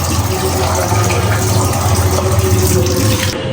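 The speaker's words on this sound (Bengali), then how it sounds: "তো এদিকে আমি সুন্দর করে চিকেনগুলো একটা একটা করে ধুয়ে নিব।" Raw chicken pieces rinsed one by one under a running kitchen tap: a loud, continuous stream of water splashing close by, steady throughout.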